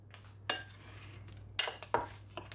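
Metal spoons clink against sauce containers for Aldi chicken thigh bites, several sharp bright taps spread over a couple of seconds, close and fairly quiet over a low steady hum.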